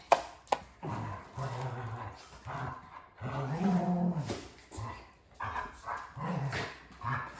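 Dogs playing in a home, with repeated barks, growls and whimpers coming in bursts across the clip, fairly close and moderately loud, with no talk over them.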